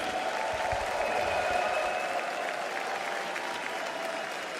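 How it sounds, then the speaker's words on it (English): A large crowd cheers and applauds at a Dota 2 International tournament arena in Hamburg, a loud continuous roar of clapping and shouting that holds steady throughout. "make some noise for one of the best position 4 players in the world, 9 class and P-Vision."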